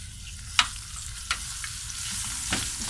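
Garlic sizzles in a hot pan, a close, bright crackling fry with a few sharp pops and stirring scrapes, steady throughout with no talking.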